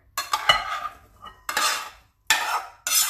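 Lima beans and riced cauliflower tipped into a bowl, heard as three separate bursts of scraping, clattering spoon-and-dish noise close by, with short silent gaps between them.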